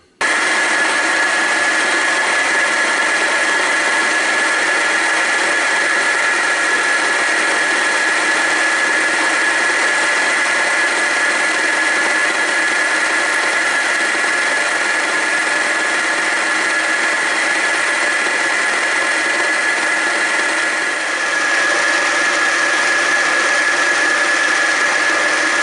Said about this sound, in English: I think this is the right moment to make a groove in the piston